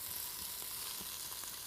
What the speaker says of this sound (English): Add our onion to our mixture. Stir that together.